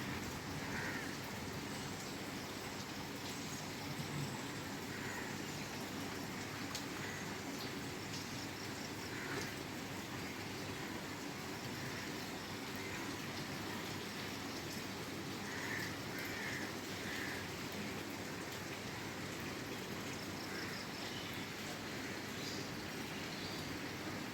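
Steady rain hisses continuously for the whole stretch, an even wash of drops with no voices over it.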